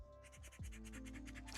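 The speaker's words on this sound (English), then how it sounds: "And I can use my unique pencil again" A pencil shades on paper in quick repeated strokes, a rhythmic dry scratching heard close and faint, with a low steady hum underneath.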